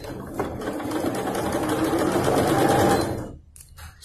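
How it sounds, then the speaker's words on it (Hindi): An Usha Janome Dream Maker 120 sewing machine stitches in one steady, loud, continuous run at a 3.5 stitch length for about three seconds, then stops abruptly, leaving a few quiet clicks. "तो अभी मैं आपको स्टिच करके दिखाती हूँ।"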